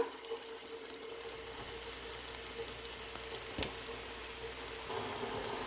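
Radish stir-fry frying in a pan makes a faint, steady sizzle and crackle, broken by an occasional scrape or clink near the middle, with no talking.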